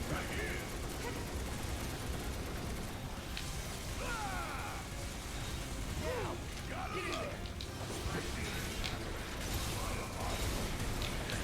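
Laser gunfire in the video game Final Fantasy VII Remake, rapid bursts of zapping shots over dense battle noise and a steady game soundtrack, with a voice talking throughout.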